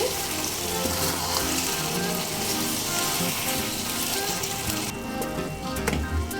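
Bottle gourd and prawn curry with a little ghee sizzles loudly while being stirred in a pan, a dense, close crackle with scraping, thinning out near the end.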